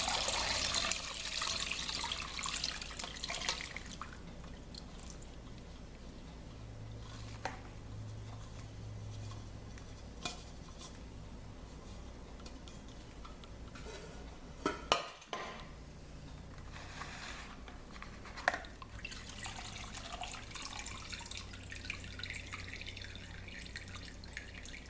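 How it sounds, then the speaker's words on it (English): Limoncello liquid with lemon peel poured into a large colander, a rush of splashing liquid at first that settles into steady dripping and pattering as it drains, with occasional clinks of the pot. "Now I'm going to dump this into a large colander."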